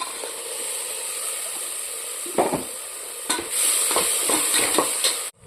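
Ground tomato paste goes into a hot pan and sets off a steady sizzle. Several utensil clanks and scrapes come in the middle, a brighter hiss swells as it cooks, and the sound cuts off abruptly near the end.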